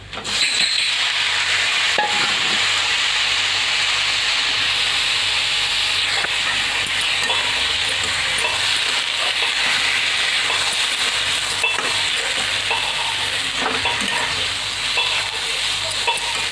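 Tomatoes sizzle and fry in hot mustard oil in a pan, a loud, steady close hiss with occasional stirring clatter and crackle throughout.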